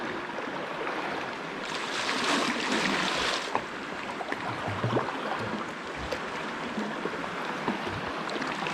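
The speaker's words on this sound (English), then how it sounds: "if you look right up ahead there, you can see there's an actual small waterfall" Small waterfall on the Gunpowder River in Hemlock Gorge, a steady broadband rush of falling water heard from a kayak upstream, with a louder surge partway through and faint paddle splashes.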